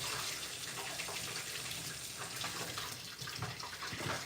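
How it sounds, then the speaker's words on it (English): An avocado is rinsed under a running kitchen tap, a steady, close rush of water splashing continuously without pause or speech. "so we're gonna rinse our avocado"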